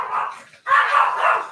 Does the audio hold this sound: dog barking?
yes